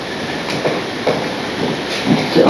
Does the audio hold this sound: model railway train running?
yes